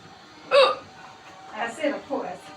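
A woman's hiccups, several sharp bursts with the clearest one early and a quick cluster of softer hiccups later, close and indoors with no talk.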